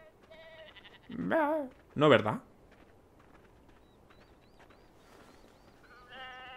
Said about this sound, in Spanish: que es donde van aquí a pastar las ovejas